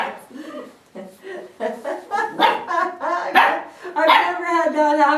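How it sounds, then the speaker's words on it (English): A young puppy, just taken from its littermates, yips and barks at balls in a rapid, uneven run of high, whiny calls, close and fairly loud throughout. "And he's barking at the balls."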